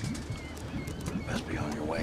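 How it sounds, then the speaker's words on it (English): Birds call in a Wolfenstein II game scene where seagulls are being fed, a few short cries and chirps over a low background hum with faint voices. "Why are you feeding the seagulls?"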